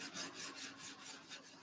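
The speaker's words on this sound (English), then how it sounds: "everything's nice and straight when you file it." A file rasping along the trailing edge of a Tamiya 1/48 Avro Lancaster plastic model kit, quiet close strokes repeating steadily about every quarter second with no talking.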